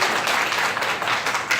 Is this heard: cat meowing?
no